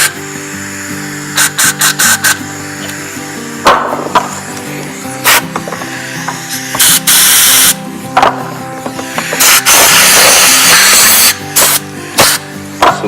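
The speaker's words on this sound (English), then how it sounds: "you have to try to put carb cleaner through it and blow it out" Carb cleaner sprays through the holes of a carburetor from a Tecumseh-powered 8HP Cub Cadet chipper shredder, in loud close hissing bursts of varying length, several short and some sustained, with clicks and handling noises between them.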